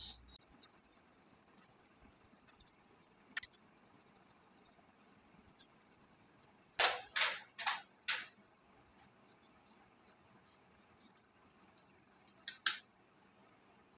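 Fabric for a boubou is cut with scissors, a burst of four quick, crisp snips in the middle and a few more near the end, close and clear over a quiet room.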